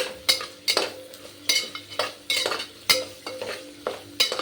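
Soybeans and mixed vegetables are sautéed in a pan for veg pulao, with a spoon scraping and stirring in repeated strokes over a soft sizzle, close and distinct, with no talk.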